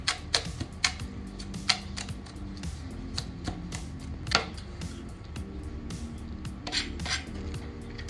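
A knife chops green onion finely on a cutting board, a rapid string of close, crisp taps with a few louder knocks, steady and alone with no talking.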